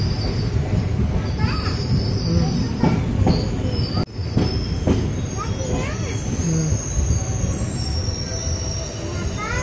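A train rolls through Churuk railway station, with steady rumbling wheels and repeated high metallic squeals close by, while people talk over the noise.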